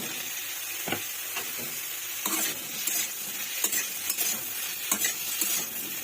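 Mushrooms sizzle in white oil in a pan while being stirred, a soft, close crackling hiss broken by scraping spatula strokes and light clinks at an irregular pace, with no one talking.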